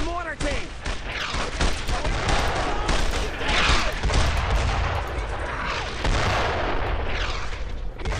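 A World War II battle in Brothers In Arms: Road to Hill 30, with booming mortar blasts and continuous rifle and machine-gun fire. The dense, loud barrage runs throughout while voices shout underneath.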